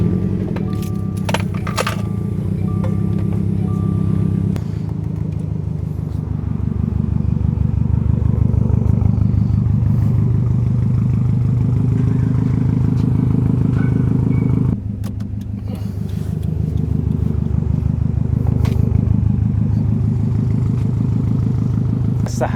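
A Subaru STI engine starts after keys jangle and then idles steadily close by, a low continuous rumble with a short dip partway through.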